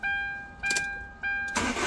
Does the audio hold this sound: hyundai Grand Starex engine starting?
yes